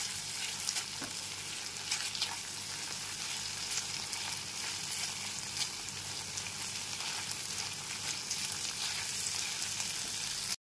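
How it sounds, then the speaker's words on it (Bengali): Ginger paste is mixed into kochur loti (taro stolons) frying in a pan, giving a steady, even sizzle with faint stirring, close and moderately quiet, with no talk. "আদা বাটাটা দিয়েও খুব ভালো মতো একবার মিশিয়ে নিচ্ছি"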